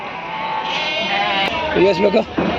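A sheep bleats loudly near the end at the Mudhol sheep market, a wavering call over steady background noise and brief murmuring voices.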